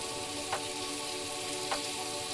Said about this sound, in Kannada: ಪನ್ನೀರ್ ಚೆನ್ನಾಗಿ ರೋಸ್ಟ್ ಆಗ್ತಾ ಇದೆ. ಆಯಿಲೆಲ್ಲ ಬಿಟ್ಕೋತಾ ಇದೆ.